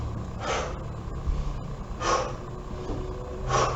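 Deep, steady breaths come in three slow, evenly spaced pulls and releases during a seated chair abdominal exercise, close and clear over a faint background hum, with no talking.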